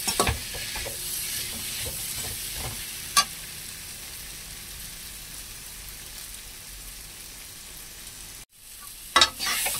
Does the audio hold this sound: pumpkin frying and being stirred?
yes